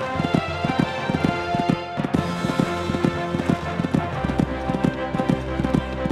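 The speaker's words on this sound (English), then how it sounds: "Galloping along nicely now." Horse galloping on a cross-country horse trials course, a rapid regular drumming of hoofbeats up close, with a commentator talking over it.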